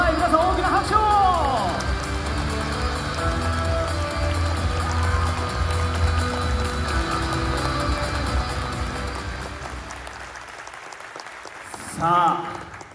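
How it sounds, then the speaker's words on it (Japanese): An audience at the Nagoya Grampus 2023 new-lineup presentation applauds and cheers as new players are introduced, a sustained dense clapping roar that fades out, then a brief burst near the end, with voices mixed in. "皆さん大きな拍手を。"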